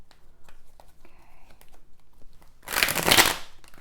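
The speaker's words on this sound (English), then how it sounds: "Let's do a quick shuffle here." Tarot cards are shuffled in one brief, close burst of papery riffling near the end, after quieter handling rustles and a few soft ticks.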